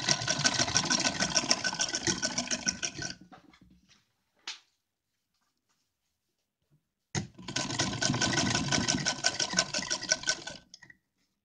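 An electric sewing machine stitches fabric for a deity's dress in two long, steady runs of rapid mechanical whirring, close and loud, separated by a quiet pause with a brief click.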